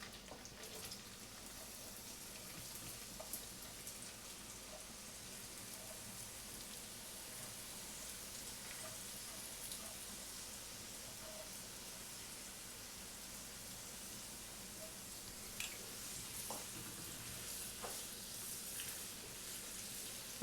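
Finely chopped onions fry in about two cups of oil in a kadai for chicken biryani, giving a soft, even, rain-like sizzle that holds steady throughout with no talking.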